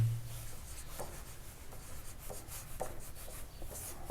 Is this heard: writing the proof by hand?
yes